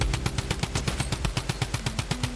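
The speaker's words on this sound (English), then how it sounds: "Now for the new BR items, we got the new drum gun" Drum gun firing in Fortnite, a rapid automatic burst of about twenty evenly spaced shots in roughly two and a half seconds, loud and close with no talking.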